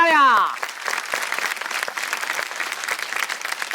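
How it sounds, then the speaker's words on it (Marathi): Loud audience clapping at a Marathi television game show, steady dense applause filling the room throughout after a brief host call at the start. "क्या बात आहे, जोरदार टाळ्या"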